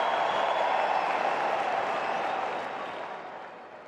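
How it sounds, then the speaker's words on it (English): A tennis crowd at the 2024 US Open women's semifinal roars and applauds, a broad loud wash of noise that gradually fades toward the end. "listen to that crowd trying to help Pegula."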